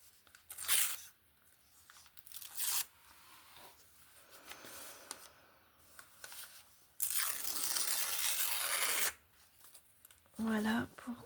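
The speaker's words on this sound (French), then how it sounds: "je vais découper un peu à la main" Paper cut and torn by hand in several rough bursts, one long ripping stretch in the middle, close and fairly quiet, with soft speech in between.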